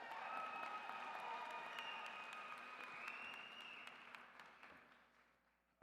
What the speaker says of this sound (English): Let's give Victoria one more round of applause